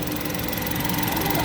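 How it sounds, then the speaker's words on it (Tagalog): A Toyota Raize engine idles during a CVT transmission fluid change, a steady, loud, continuous mechanical hum with even texture and no pauses or voices. "Kailangan naka-start ang makina."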